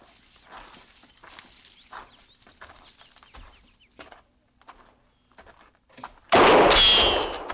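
A single loud, sharp gunshot from a hut in an old-time Western radio drama bursts out after quiet stretches of dialogue and rings off with a lingering tail.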